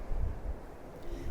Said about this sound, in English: The wind's still fairly strong at times, a few gusts